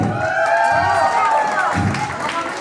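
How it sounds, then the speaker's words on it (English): Guests at an Indian sangeet celebration clap and cheer for the groom in a lively burst of applause, with whoops and voices mixed in over a bright, close crowd. "I want a big round of applause, especially for Parth."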